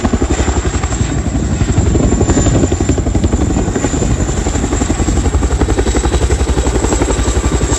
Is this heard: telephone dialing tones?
no